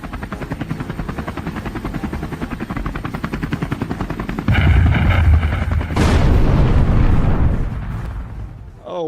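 A helicopter heard close up, with loud rhythmic rotor chopping that builds into a heavy roar, then a sudden burst of noise before it fades out.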